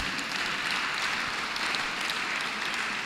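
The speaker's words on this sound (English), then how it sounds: "A round of applause for their bishop." A church congregation in the Diocese of Lagos, Church of Nigeria, claps for their bishop: a dense, even patter of many hands, steady and fairly loud throughout, with no voices on top.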